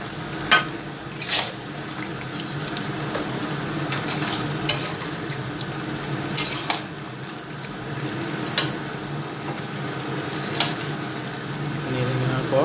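A spoon stirs chicken curry in a cooking pot amid a constant soft sizzle, with sharp scraping clicks recurring every second or two, up close.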